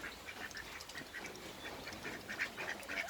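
A brown duck quacks in repeated short, nasal calls, fairly close, with several overlapping bursts.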